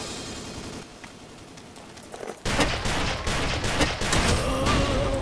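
Loud volleys of gunfire in the blocky first-person shooter Ace of Spades, a quieter rumbling start giving way to dense, rapid shots that continue close and heavy to the end.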